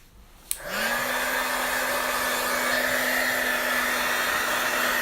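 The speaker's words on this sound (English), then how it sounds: "I'm gonna dry this with the heat tool." A heat tool switches on with a sharp click and settles into a loud, steady blowing whir with a constant tonal hum, drying paint on a piece of artwork up close.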